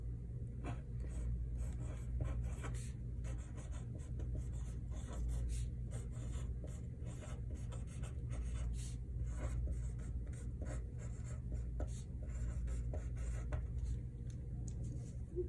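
A pencil scratches steadily across paper, close and continuous, as a short sentence is written out, with a low hum in the background.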